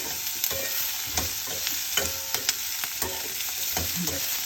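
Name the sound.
sautéing onion and herbs in a pan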